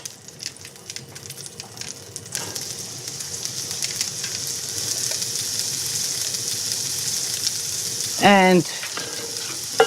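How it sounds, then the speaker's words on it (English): Pistata of pancetta and garlic frying and being stirred in a pan for a lamb and pepper ragù, a steady close sizzle with scraping stirs throughout and a brief word spoken near the end. "I want the pancetta to release its fats, the garlic to just get cooked a bit."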